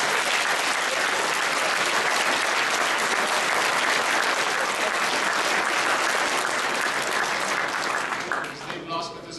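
Sustained crowd applause at a political party election convention in Ljubljana, a dense loud clapping that holds steady for several seconds before tapering off as a voice begins.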